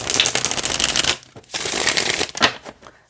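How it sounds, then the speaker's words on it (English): Close-up shuffling of a flexible tarot card deck in two bursts of crisp riffling and flapping, separated by a short pause, with no talking. "it's also very flexible, but snaps back and it shuffles like a dream"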